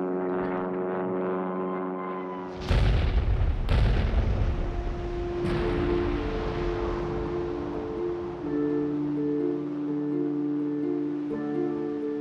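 Heavy bombs burst against a captured German battleship: deep booming explosions arrive in quick succession with a long rumbling decay, followed by a sustained low roar and hum.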